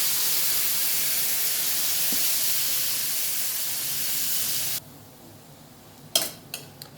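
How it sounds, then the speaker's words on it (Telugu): Big-cut onions for egg masala curry sizzle in a hot pan, a loud steady hiss that drops sharply partway through, followed by a few clattering stirs. "బిగ్ సైజులో కట్ చేసుకున్న ఆనియన్స్ వేసుకోవాలి"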